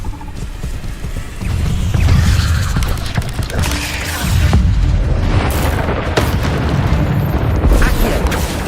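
An Incendio fire spell blasts in Hogwarts Legacy, loud roaring whooshes and deep rumbling bursts that surge and sustain across several seconds amid game combat noise.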